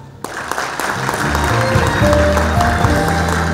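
Applause at a Lions Club anniversary ceremony in Masan as two club members are welcomed, a full roomful of clapping that starts abruptly and holds loud and steady to the end.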